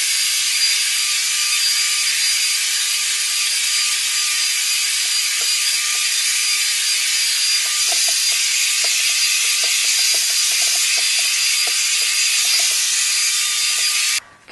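A John Frieda hair dryer on its middle setting of high air and high heat blows a steady, loud, broadband rush with no break, cutting off sharply at the end; faint clicking sits beneath it.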